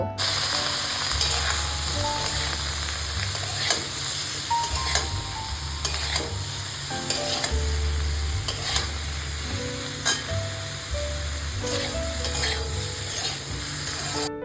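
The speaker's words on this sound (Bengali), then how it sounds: "এবার আগে থেকে কেটে রাখা ঝিঙে এবং পটলগুলোকে এর মধ্যেই ছেড়ে দেব" Ridge gourd and pointed gourd fry in hot oil with cumin and turmeric, giving a steady close sizzle broken by the repeated scrape and clack of a spatula stirring the pan over a low background hum.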